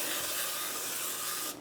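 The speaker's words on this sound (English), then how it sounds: "this is a misto, and you just fill it with vegetable oil or peanut oil, whatever oil you would like" A Misto reusable pump sprayer filled with cooking oil gives one continuous close hiss of spray that cuts off just before the end.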